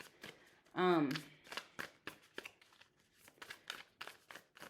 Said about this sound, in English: let's put these cards back together